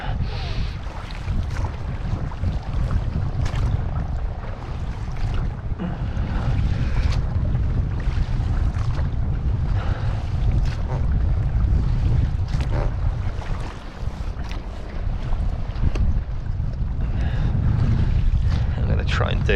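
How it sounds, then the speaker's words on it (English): Strong gusty wind buffets the microphone on the shore of Kingsbridge Estuary near Frogmore Creek, a loud continuous low roar with rushing surges and faint water lapping, a voice occasionally under it. "This wind, it'll be hitting the shore"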